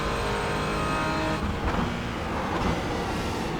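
The engine of a Porsche Cayman GT4 in the iRacing simulation drones loudly at Sebring, shifting pitch as the car brakes and then accelerates under full throttle. The sound is continuous, with no voices.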